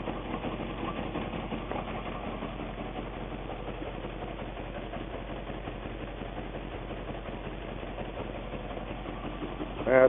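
A 1984 Chevy C10 truck engine idles steadily at a fairly low level, with an even, rapid ticking chug that carries on throughout.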